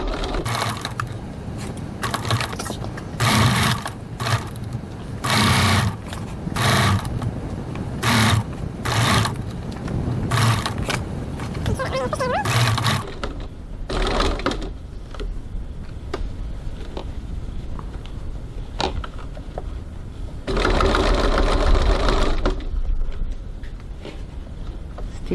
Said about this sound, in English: I'm stitching with a seam allowance of 1 centimetre 3/8 of an inch